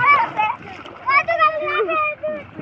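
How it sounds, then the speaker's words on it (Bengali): Children splashing and playing while bathing in water, light splashes mixed with their excited high-pitched voices, close and lively. "অনেক আনন্দ করে গোসল করতেছে"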